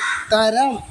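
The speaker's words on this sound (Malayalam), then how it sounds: "ഇത് അപ്പുറം ഇരുന്ന് കാക്കയെ കിടന്ന് ഒച്ചെടുക്കുന്നുണ്ട്" A crow caws once, a short nasal harsh call rising and falling, close and clear, following a brief spoken word.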